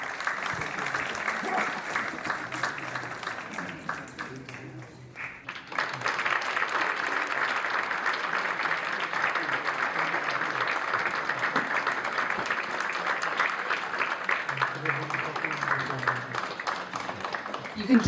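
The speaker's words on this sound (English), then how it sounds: "You don't need to stop with your clapping this evening" An audience at a World Food Movement launch event in New York and New Jersey applauds in a sustained, dense burst that dips briefly midway and then swells again, loud and continuous, with a voice faintly beneath.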